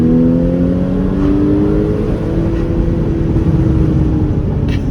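A Porsche Cayman 981 S engine running rich, heard from inside as the revs fall away, a loud steady droning note with a faint crackling edge but no distinct sharp pops.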